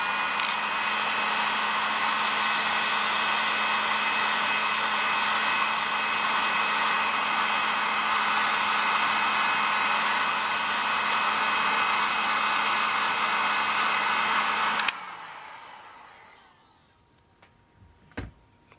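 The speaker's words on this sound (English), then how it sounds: "Now I'll heat the cable and see if it straightens out." A hair dryer blows steadily and loudly at close range, heating the cable of a size 0 aluminum knitting needle to straighten it, then cuts off abruptly, leaving quiet with a few faint clicks.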